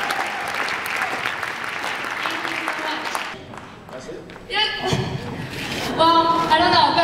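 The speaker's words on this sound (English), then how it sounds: "Give yourself a round of applause." An audience at a Chinese Night language-lesson event claps in a dense, steady burst for about three seconds, then the applause thins out as voices and chuckles take over.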